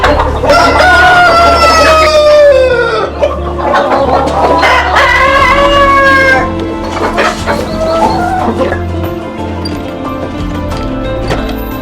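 Egg-laying hens cluck loudly close by while a rooster crows, the calls overlapping in a busy, noisy farm coop.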